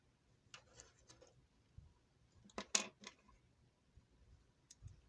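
Scissors snip through a strand of yarn while a Halloween crochet spider is being assembled. A few faint, brief cuts and small handling clicks stand out against a near-silent room.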